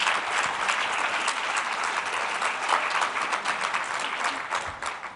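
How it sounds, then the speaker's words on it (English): Steady, dense applause from a large audience at an education talk fills the room for several seconds before tapering off at the end. "Give yourself a round of applause."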